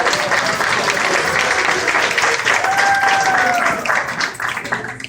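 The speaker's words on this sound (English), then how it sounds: "Give yourselves an applause" Audience applauding steadily at a charity event after feeding 106 people for a year, a dense continuous wash of clapping with a voice briefly audible over it.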